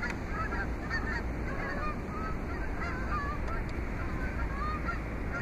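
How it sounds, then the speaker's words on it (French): A flock of geese honks outdoors, many overlapping nasal calls at moderate distance over a steady background rush, continuous throughout with no talk. "Oh, bunch of birds."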